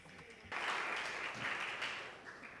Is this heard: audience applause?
yes